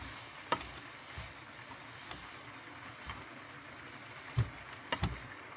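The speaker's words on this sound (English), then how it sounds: "So let's go ahead and stir them in" A sausage, bean and cabbage stew being stirred in a full pot in a small RV kitchen, with soft scraping over a low background hum and a few sharper clanks of the spoon against the pot.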